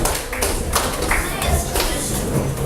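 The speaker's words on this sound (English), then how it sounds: "Please, yeah, give it a clap." A small group in a school class gives a short round of clapping, with scattered distinct hand claps and taps close by, plus some background voices.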